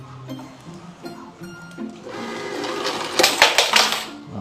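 Coin hopper in a coin box whirring and clattering, with rapid mechanical clicks building to a denser rattling burst near the end, close and fairly loud.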